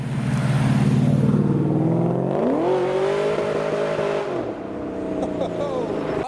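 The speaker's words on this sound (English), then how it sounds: "Next up, the V8 M3." A V8-powered BMW M3 at a street gathering of custom cars, engine revving and rising in pitch as it drives past close by, loud and then fading slightly, with some crowd noise.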